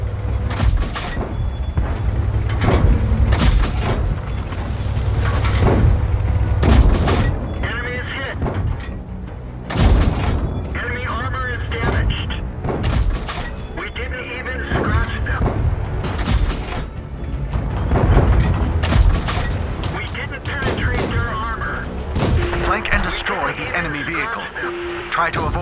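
Tank cannon shots and shell impacts from World of Tanks gameplay, heavy booms repeating through the clip under a game radio voice and crew chatter.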